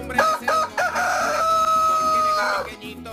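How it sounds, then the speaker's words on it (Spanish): A rooster crows in a long, loud cock-a-doodle-doo, rising and then holding a sustained tone before fading, with a few short clucks at the start over a steady background hum. "canta el gallo"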